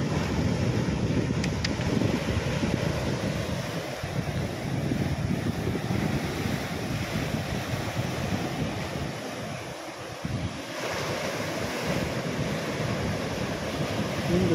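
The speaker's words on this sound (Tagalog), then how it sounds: "Lakas ng alon." Strong ocean waves roar and surge continuously, mixed with gusty wind buffeting the microphone, loud and close.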